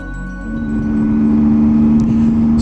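A Triumph Tiger motorcycle rides away along a road from a mall toward the interstate, its engine building from a low rumble into a steady, loud, close drone with a held tonal whine.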